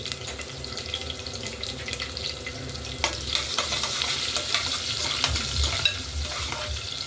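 Onions and green chillies frying in oil for mutton tripe (boti), a steady close sizzle with scraping stirring strokes that grow busier partway through.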